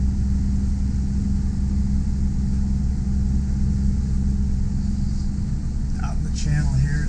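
Diesel engines of a Nordhavn 57 trawler yacht running steadily at 1300 RPM, a loud, constant low rumble and drone heard from aboard, with a voice briefly speaking near the end.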